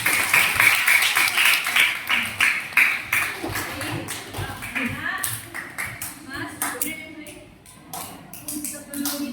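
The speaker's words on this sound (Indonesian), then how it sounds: "Beri tepuk tangan untuk kita semua." A class claps hands together in a quick, rhythmic burst of sharp claps in the first half, after which the clapping thins out and talking and scattered taps follow.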